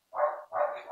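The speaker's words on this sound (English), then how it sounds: "excuse my dogs by the way" Dogs bark twice in quick succession, loud and close, each bark a short mid-pitched burst with no talking over them.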